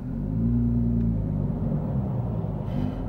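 Porsche 991.2 GT3 on a freeway, a loud steady engine rumble and road drone from inside the car that swells as it pulls through the gears, with no talk over it.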